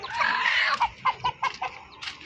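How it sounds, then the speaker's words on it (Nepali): Chickens cluck in a village yard with a rooster close by, first in a loud, busy burst and then in a run of short, separate clucks at a near distance. "त्यो भाले आएको हेर न त्यो चल्ला कसरी पस्या"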